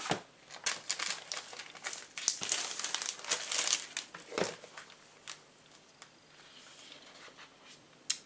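Sheets of 30 by 30 metallic paper crinkle and rustle up close in irregular bursts of crisp crackling, loud at first and then thinning to softer, scattered handling sounds.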